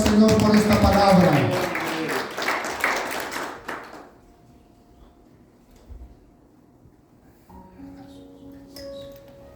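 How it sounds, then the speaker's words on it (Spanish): A church congregation claps loudly for about four seconds, with voices mixed in, before the applause cuts off into quiet room tone and faint sounds. "Dale un fuerte aplauso al Señor por esta palabra."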